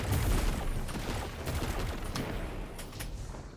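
Sustained rapid gunfire from an exotic machine gun with destabilizing rounds in Destiny 2, a dense continuous burst of shots running the whole time, loud and close, with no talk.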